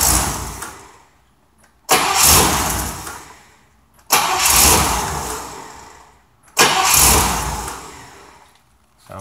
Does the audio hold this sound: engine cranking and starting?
yes